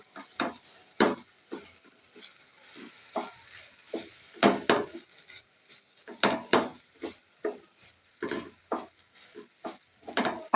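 A spoon stirs food colour into Basanti pulao rice in a pot, making irregular scraping and clinking strokes in uneven bursts over about ten seconds, close by with no talking.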